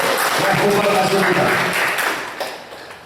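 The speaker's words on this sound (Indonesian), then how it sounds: "Tepuk tangan dulu untuk Regu C." A crowd claps in loud, sustained applause that gradually tapers off toward the end.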